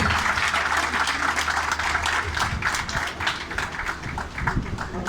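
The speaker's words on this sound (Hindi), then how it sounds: "तालियों का सिलसिला जारी रखिएगा जी, तालियों का सिलसिला।" A crowd at a pigeon club's combined race ceremony applauds as a guest comes on stage. Sustained, busy clapping from many hands runs throughout over a low electrical hum, without any voice on top.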